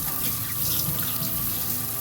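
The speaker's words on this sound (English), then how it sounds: "Run some water on here." Tap water pours steadily into a sink while a grill scrubber is rinsed clean after a dish-soap wash, a close, continuous splashing rush with no talk.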